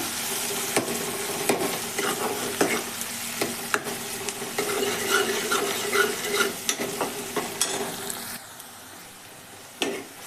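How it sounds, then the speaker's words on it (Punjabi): Chillies roasting with spice masala in a pan for a winter dal: a steady, close sizzle with repeated scraping stir strokes throughout, fading quieter in the final seconds. "ਮਿਰਚਾਂ ਨੂੰ ਵੀ ਆਪਾਂ ਹੁਣ ਭੁੰਨ ਲਵਾਂਗੇ 2 ਮਿੰਟ ਨਾ ਆਪਾਂ ਹੁਣ ਮਿਰਚਾਂ ਨੂੰ ਭੁੰਨਾਂਗੇ"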